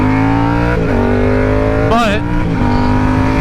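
A Yamaha R7 motorcycle engine accelerates hard up through the revs, rising harmonic whine with a quick shift dip midway, loud and close, with a voice speaking briefly over it.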